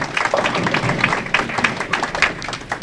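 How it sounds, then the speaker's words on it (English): A bowling crowd at the Senior Women's U.S. Open stepladder finals claps in a scattered, moderately loud round of applause, with quick irregular patters and a few thumps. "Have a nice round of applause for the finalists."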